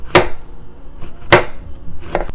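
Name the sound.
knife cutting garden eggs on a cutting board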